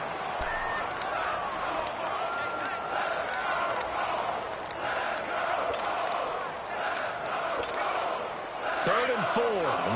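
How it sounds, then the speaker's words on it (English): A football stadium crowd roars steadily as fans rally behind the Detroit defense, a broad sustained wash of cheering with brief sharper shouts near the end. "this crowd urging on their defense. They're up and making noise."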